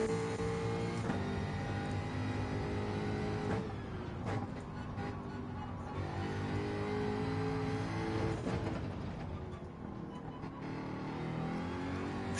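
Jaguar race car engine in Gran Turismo 7, droning steadily throughout with shifting pitch as it accelerates and changes gear, heard close and loud with no talk over it.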